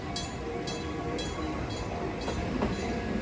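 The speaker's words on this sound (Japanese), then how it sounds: "やってきたのは20型電車。" An Enoden Type 20 electric train passes on the Enoshima Electric Railway near Kamakura and Shonan, its rhythmic clickety-clack of wheels over rail joints repeating steadily over a continuous rumble, heard fairly close with no talking.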